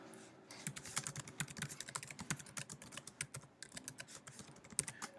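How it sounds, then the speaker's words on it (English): Rapid, irregular clicking of keys on a computer keyboard, close and fairly quiet, with brief pauses between bursts of typing and no talk. "I'm going to type in Evansville"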